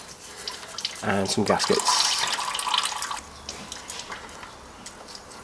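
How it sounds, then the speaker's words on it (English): Engine oil pouring out of the sump of an aircooled VW engine, a liquid splash and trickle that starts loud and then thins to a lighter stream, with someone speaking briefly over it. "Once you drain the oil, refit the sump plug"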